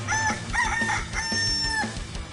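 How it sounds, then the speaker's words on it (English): A rooster crows cock-a-doodle-doo in a Far Cry 6 game scene, two or three loud drawn-out calls in quick succession, close and clear with no talk. "That's the sound of a rooster, guys. Cock-a-doodle-doo."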